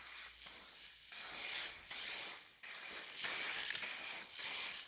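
Spray gun laying a light to medium first coat of matched paint on a 2022 Subaru WRX, heard as close, loud bursts of hissing spray that start and stop in several passes with short gaps between them.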